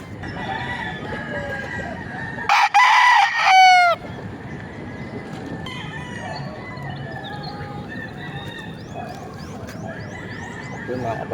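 A 10-month-old Kelso stag rooster with white legs crows loudly once in a backyard, its call standing out sharply over steady background bird chatter and faint clucking.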